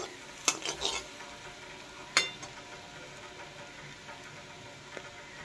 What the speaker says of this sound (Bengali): এবার এটা দিয়ে আর একটু নেড়ে নিচ্ছি।